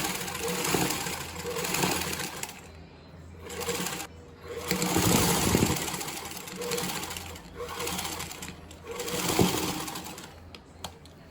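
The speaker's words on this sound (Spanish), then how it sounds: "Continuamos cosiendo la tira de gingham." A sewing machine runs in bursts as it stitches a gingham strip onto a baby diaper, a steady mechanical whir with short pauses between runs, close and alone.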